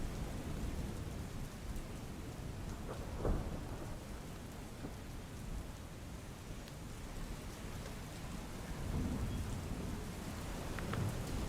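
A heavy monsoon downpour in Mandvi, Kutch, dumping inches of rain within hours, roars as a dense, unbroken hiss of falling water, with low thunder rumbling through it and no voices.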